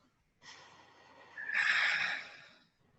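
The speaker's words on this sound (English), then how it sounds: "Deep inhale, filling the belly. And exhale, let it go." A slow, deep breath taken during a guided relaxation exercise: a soft, airy inhale followed by a longer, louder exhale that swells and fades, close and alone with no talking.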